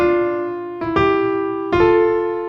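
Piano chord struck three times with notes landing unevenly, each attack smeared as fingers hit at slightly different moments, sustained tones ringing between strikes, close and clear with no talk.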